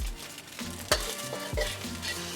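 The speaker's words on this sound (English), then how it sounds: "Now I'm gonna drop in my eggs," Eggs dropped into a hot pan of chicken fried rice, with a steady sizzle and frying hiss broken by a few sharp scraping stirs of a utensil against the pan, close and fairly loud.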